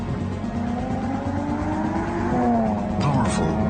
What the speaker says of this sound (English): It's a sports car, yet a sedan.